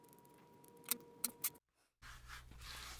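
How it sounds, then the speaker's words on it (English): Three quick, crisp scissor snips in a row trimming a yarn pom-pom, close and clear, followed by a brief silence and then a soft rustling hiss. "take your scissors and give this a nice little haircut"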